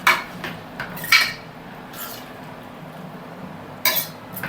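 Ridge gourd curry stirred in a pan, a spoon clinking and scraping against the metal in a few brief bursts, close, with quiet pauses between and no talk.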